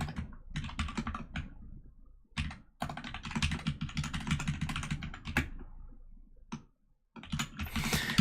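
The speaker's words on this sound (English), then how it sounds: "Anson, did you ever lube your keyboard?" Rapid keystrokes on a computer keyboard clatter in dense, uneven bursts with brief pauses between runs, close and fairly loud, with no voice over them.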